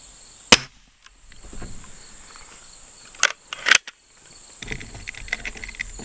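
A cheap Chinese B3 underlever .177 air rifle firing, a few sharp close cracks separated by quiet gaps, with faint clicks and handling noise between shots.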